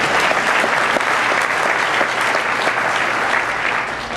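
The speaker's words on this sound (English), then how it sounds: "ask that shooter to stand up and give a round of applause" Steady applause from an audience at a Michigan high school football coaches hall of fame ceremony, a dense, even wash of many hands clapping, fairly close and sustained before easing slightly at the end.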